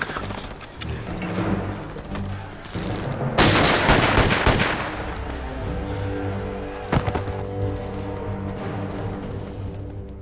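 Gunfire with armor-piercing bullets in a film, bursts of shots over a music score, with a loud dense volley in the middle and a few sharp cracks later.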